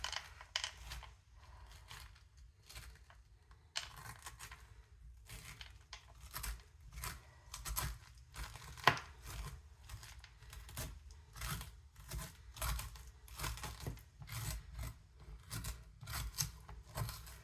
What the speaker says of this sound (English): You're going to take a spoon or anything that's like a shovel, a spoon, an ice cream scooper, and you're going to take all this out